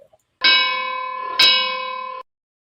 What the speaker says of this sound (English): But that's the opening bell.